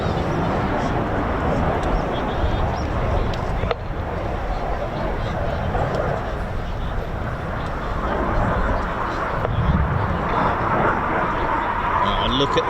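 Typhoon jets roar through a display manoeuvre at the RAF Coningsby families day, a continuous broad, loud jet noise with shifting intensity, and a commentator talking over it.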